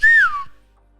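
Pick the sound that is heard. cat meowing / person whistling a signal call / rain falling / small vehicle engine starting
person whistling a signal call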